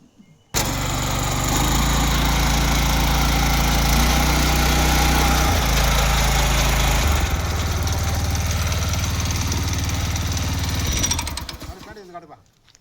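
A 7-inch weeder's engine starts abruptly and runs loud and steady close by, with a rough mechanical rattle and a slight shift in tone midway, then winds down and stops near the end.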